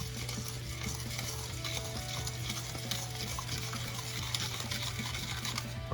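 Eggs are beaten thoroughly in a bowl for crème brûlée, a steady, dense whisking and stirring clatter close by with no talk, while a low hum runs under it.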